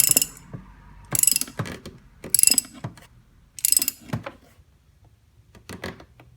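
Ratchet wrench tightening a spark plug on a Xciting 500 scooter, several short bursts of rapid clicking separated by pauses, close and distinct, with softer clicks trailing off at the end.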